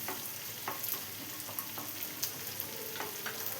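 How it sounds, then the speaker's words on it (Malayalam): Cashews and raisins frying in ghee for semiya chavvari payasam, a steady soft sizzle with occasional scraping clicks of a spoon stirring in the pan, fairly quiet and close. "ഇപ്പോൾ അണ്ടിപ്പരിപ്പ് മുന്തിരി എല്ലാം നന്നായി ഫ്രൈ ആയി വന്നിട്ടുണ്ട്"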